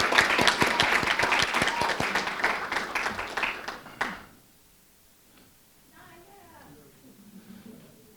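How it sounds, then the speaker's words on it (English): A school board meeting audience applauds a high school powerlifting team with distinct, rhythmic clapping for about four seconds, then it stops abruptly and faint talk and room movement follow. "giving them a round of applause for an outstanding season"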